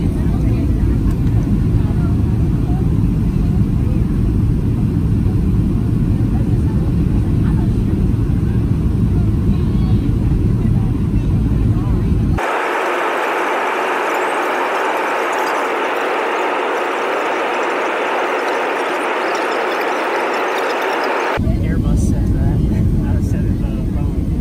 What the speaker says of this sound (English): we're on the Boeing 737 with these doo-doo brown seats